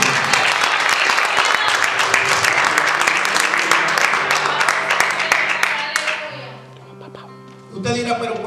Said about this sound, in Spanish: Él es aplauso fuerte al Señor.